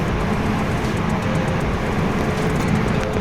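A Dubai metro train in a station, a continuous broadband rumble and hum of the train running, steady and fairly loud, with no talking.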